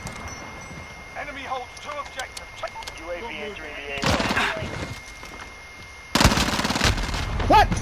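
Gunfire in Modern Warfare: talk over the opening seconds, then two loud bursts of rapid automatic fire, the second sustained to the end, with close sharp cracks.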